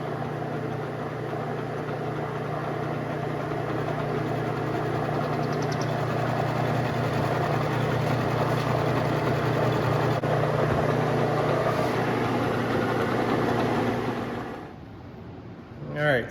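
A milling machine cuts steel while modifying the steady rest for a Hendey 12x30 lathe, giving a steady humming machine drone with a grinding undertone that runs evenly and then drops away near the end.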